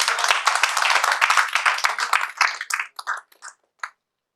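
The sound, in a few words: audience clapping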